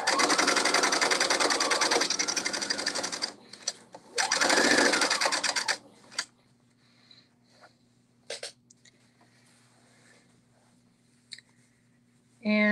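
A sewing machine stitches a kimono in two fast, buzzing runs separated by a short pause, then stops. After that comes a quiet hum with scattered clicks and fabric handling, and a short burst of stitching starts at the very end.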